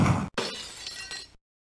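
A gunshot blasts a box apart in the 1993 Mega CD video game Mad Dog McCree, giving one loud, close crack followed by a brief splintering shatter that cuts off abruptly into silence.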